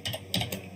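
Quick keystrokes tap on a computer keyboard, three or four clicks in a short burst, close and crisp, with no voice.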